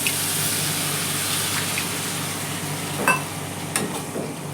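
Potato and pumpkin sabji sautéing in a pan after a sprinkle of water, giving a steady low sizzle with a few soft stirring scrapes near the end, close and alone.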